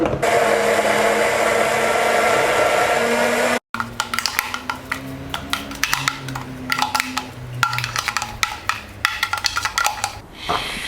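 A blender whirs loudly and steadily as it mixes an instant coffee frappe shake with milk, syrup and frappe base, cutting off abruptly, then giving way to clinks, knocks and handling noises of preparing and garnishing the drink.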